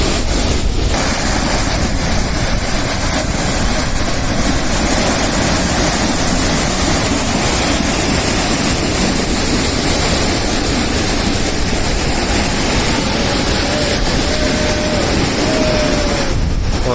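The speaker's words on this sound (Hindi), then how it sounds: "ये देखिए गजब का वाटरफॉल, कैसे उड़ रहा है पानी हवा के साथ।" The Rishiganga waterfall, with water blown about by the wind, gives a constant loud roar and wash of spray, mixed with buffeting wind noise on the microphone, steady throughout with no breaks.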